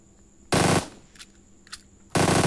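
Automatic gunfire in PUBG Mobile, two loud, sustained bursts of rapid shots separated by a pause with a few faint game sounds.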